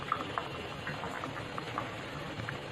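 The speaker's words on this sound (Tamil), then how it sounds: "கொதிக்கட்டும்." Fish curry (vela meen kuzhambu) bubbling in a pot, a steady low simmer with soft scattered pops and blips throughout.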